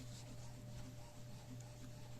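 A home printer runs in the background, giving a steady, quiet mechanical hum with a faint tonal whine. It continues unbroken throughout.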